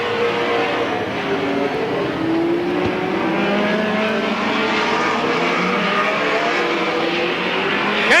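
Race cars roar around the Midvale Speedway oval during the 1995 Fall Classic, a loud, continuous engine drone that swells and fades as the cars sweep past.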